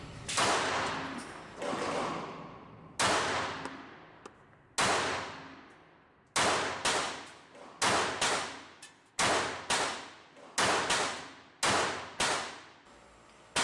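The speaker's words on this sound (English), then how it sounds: "my shots went low, which is typical for my shooting this LCP" Ruger LCP MAX pistol fired at a range, about a dozen sharp, loud gunshots, each with a decaying echo, spaced irregularly in small groups.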